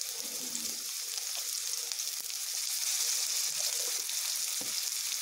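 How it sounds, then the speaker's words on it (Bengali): Salted potato pieces fry in hot oil, giving a continuous, close sizzle with soft stirring scrapes and no voices. "আলুগুলোকে একটু আমি ভেজে নেব"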